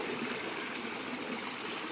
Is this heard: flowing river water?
yes